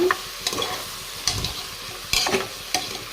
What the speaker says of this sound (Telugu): ఇది వచ్చి బెండకాయ ఫ్రై అయితే చేస్తున్నా